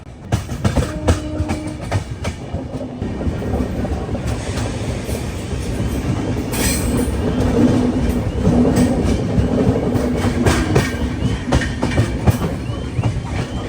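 Chennai–Delhi Duronto Express moving along the rails near Balharshah, a steady close rumble of wheels and carriages with soft rhythmic clatter and a few squeaks, continuous for the whole stretch.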